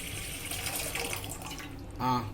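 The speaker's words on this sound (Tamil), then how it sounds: "ஸோ அந்த தண்ணியை ஃபஸ்ட்டு எடுத்து இந்த பவுலில் அப்படியே வந்து ஊற்ற போகிறேன்." Water is poured into a bowl while making masala tea, a steady watery splash running throughout and swelling into a brief louder gush near the end.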